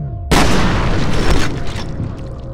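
A loud, close explosion as an enemy soldier blows up in the shooter game F.E.A.R., bursting in abruptly after a brief quiet moment and then rumbling and decaying over the next couple of seconds.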